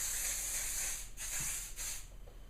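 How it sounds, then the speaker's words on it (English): Kenra Finishing Spray hairspray hisses from an aerosol can onto hair set in rollers, in two or three short, close, bright bursts with brief gaps, no talking. "I'm going to give it a quick spray with hairspray. This is Kenra Finishing Spray."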